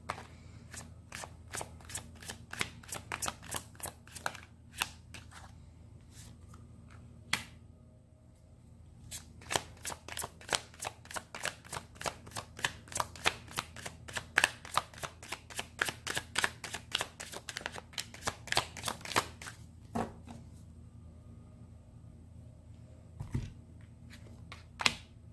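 Tarot cards riffle and slap together in rapid bursts of shuffling, fairly quiet and close, with brief pauses between rounds and no talking.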